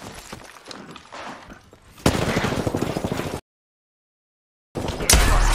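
Gunshots in the battle royale game Apex Legends, loud bursts of rapid fire in two sections, cut by a stretch of total silence. Quieter action sounds come first.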